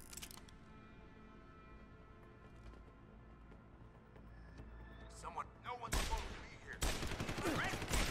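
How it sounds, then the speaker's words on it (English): A quiet stretch gives way to a couple of loud, sharp bursts of hand cannon gunfire in the video game Deus Ex: Human Revolution near the end, broad and booming over faint background noise. "Then we're gonna bust out the hand cannon."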